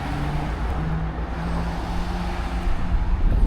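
A Koenigsegg Jesko supercar drives past gently at a Cars & Coffee meet, heard from a distance as a steady, low engine rumble mixed with surrounding traffic-like noise, rising slightly near the end.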